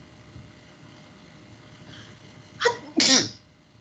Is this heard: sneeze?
yes